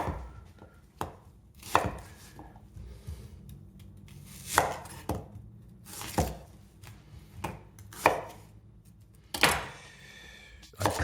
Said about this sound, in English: I'm cutting the leek in half